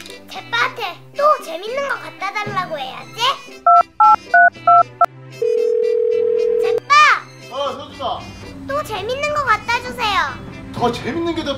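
A toy telephone plays rapid dialing beeps, followed by a steady tone, amid a child's and adult's chatter and cheerful background music.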